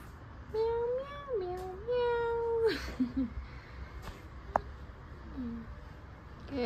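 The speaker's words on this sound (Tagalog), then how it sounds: "Kaya siya cat cafe kasi marami ring cats here." Several cats meow in a cat cafe in Baguio City, with drawn-out, wavering cries close by, followed by quieter, shorter mews against a soft room background.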